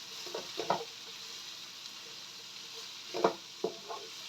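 Orange carrots for pancit canton stir-fry in a wok, giving a soft background sizzle broken by two short bursts of scraping and tossing as a spatula turns them; the sounds are quiet and close.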